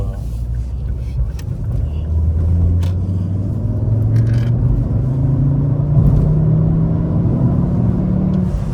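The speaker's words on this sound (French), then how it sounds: "Il y a bien le turbo, tu l'entends bien et tout." A turbocharged Ford ST accelerates in a long steady pull, its engine note rising gradually as a loud, close rumble sustained throughout.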